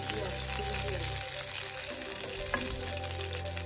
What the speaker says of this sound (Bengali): মাস্টার্ড অয়েল দিয়ে দিলাম, তারপর শুকনা মরিচ মাঝখান দিয়ে ছিঁড়ে দিয়ে দিলাম অ্যান্ড দেন একটা তেজপাতা দিয়ে দিলাম। এটার মধ্যে একটুখানি ফ্রাই করে নিচ্ছি।